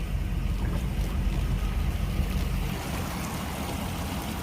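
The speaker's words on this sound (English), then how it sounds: "I actually got to take Money Pit through a creek crossing" A pickup truck called Money Pit rolls through a small, shallow creek crossing while truck camping in Colorado, a steady low engine rumble blending with continuous rushing water and splashing, fairly loud and close, with no talking.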